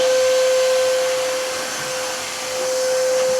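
A vacuum cleaner on a five-metre hose hums loudly and steadily with a constant whining tone, dipping slightly midway, with no one speaking.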